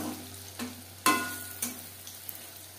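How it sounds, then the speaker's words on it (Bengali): Paneer pakoras fry in hot oil over a medium flame, giving a soft, low sizzle broken by a few sharp clatters and splashes as pieces are moved around the pan. "পাকোড়া ভাজবো মিডিয়াম ফ্লেমে"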